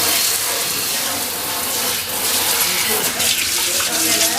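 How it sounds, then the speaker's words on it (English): A kitchen sink faucet in a Miami rental runs steadily, giving an even, close splashing hiss of water for several seconds while faint background sounds continue beneath it. "Let's see how the faucet runs out."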